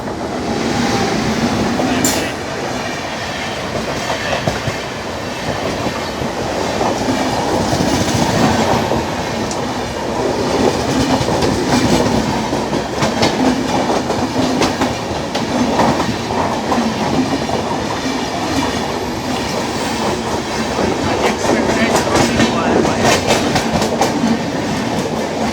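A running train, the Okha Nathdwara Express 19575, rolls steadily through a junction crossing, with continuous close rumble, rattling carriages and a few sharp clicks and squeals over the points.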